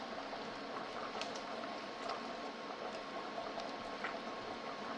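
Spinach cooking in a pan on a stovetop for a lasagna, giving a steady soft sizzle and bubbling hiss with faint scattered pops, continuous and fairly quiet throughout.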